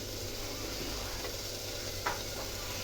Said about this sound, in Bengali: তরকারি চুলায় মাছ কষাইতেছিলাম